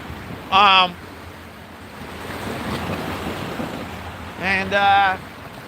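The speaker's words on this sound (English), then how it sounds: "these waves really kicked up" Choppy waves on a river wash and slosh under gusty wind noise, with voices talking over them in two short bursts.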